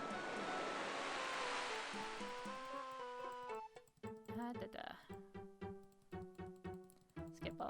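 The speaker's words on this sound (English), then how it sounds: "Again with the waves." Ocean waves on a video game beach, a broad washing surf hiss filling the first half before a plucked, tuneful game melody takes over and the waves fade out.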